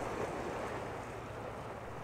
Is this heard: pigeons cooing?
no